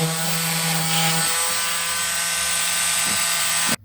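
An oscillating multi-tool buzzes steadily as it trims the edges of a drywall patch, a close, loud vibrating drone with a shifting pitch that cuts off abruptly at the end.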